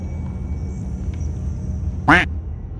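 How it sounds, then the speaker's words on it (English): A stream sound alert plays a single loud duck quack, short and nasal, cutting sharply through a steady low rumble of game background noise. "The fucking quack, bruh."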